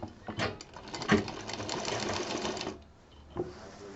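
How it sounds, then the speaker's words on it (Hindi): A sewing machine stitches the last line along a patchwork bed cover, a steady rapid whir lasting under three seconds at moderate distance, then stopping, with a faint knock of handling afterward. "अब ये हमारा बस फाइनल एक लाइन सिलनी होगी।"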